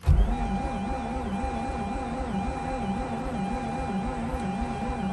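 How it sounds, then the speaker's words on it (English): A Mazda RX8 rotary engine that has trouble starting on two-year-old fuel cranks steadily without catching, a continuous loud whirring drone with a wavering, cyclic pulse from start to finish. "Let's go ahead and start cranking again."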